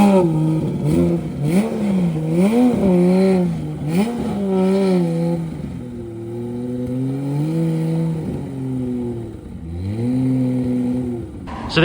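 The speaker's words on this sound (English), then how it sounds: "So there you go, you heard it roll in. It sounds fantastic. A really, really nice 993 RWB." A Porsche 993 RWB rolls in at a New Year gathering in Japan, its engine loud and close, revving up and down in repeated surges, then settling into a lower throb before another rising rev near the end, with no talk.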